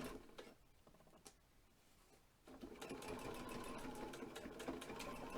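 A sewing machine stitches fabric for a face covering, first a few short, quiet bursts with pauses, then a sustained fast stitching run close by.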